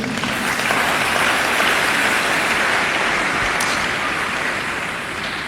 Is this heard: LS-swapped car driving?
no